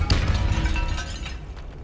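A Depulso spell cast in Hogwarts Legacy gives a single heavy burst with a low rumbling boom that fades over about two seconds, loud and close, with no talk.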